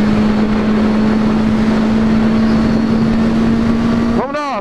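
A Kawasaki Z800 motorcycle engine runs with a loud, steady, close-up drone that holds one even pitch for about four seconds, without clear revving, before a brief voice takes over at the end.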